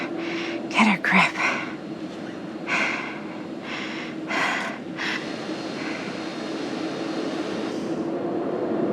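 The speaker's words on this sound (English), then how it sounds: "we'll be starting our final descent into the Croydon Airport in just a few minutes" Inside an airplane cabin during descent in the video game The Casting of Frank Stone, a steady engine drone runs beneath several sharp breathing and gasping sounds and a voice, then settles into a constant hum.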